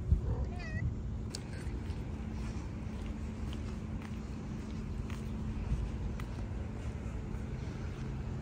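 A small cat meows a few times early on, with short rising-and-falling calls, over steady outdoor background noise on an Istanbul street, and faint footsteps and passing traffic continue for the rest of the stretch.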